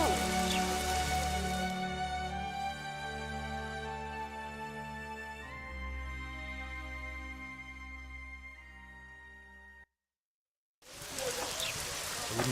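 Steady rain hisses alongside sustained musical tones in The Witcher 2: Assassins of Kings, cutting out briefly to silence before the downpour returns.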